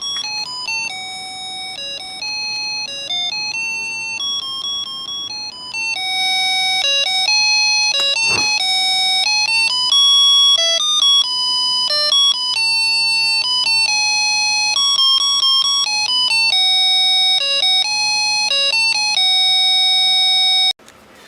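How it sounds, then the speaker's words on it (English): A homemade electronic doorbell chimes a simple synthesized melody, its clear beeping notes stepping up and down in a steady tune for about twenty seconds, loud and close with a sharp click partway through. "Second melody doorbell."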